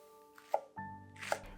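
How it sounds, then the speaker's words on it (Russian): A knife chops a small bunch of green onions on a board: a few crisp, separate chops spaced unevenly, heard close over soft background music. "И мелко нарезаю небольшой пучок зеленого лука."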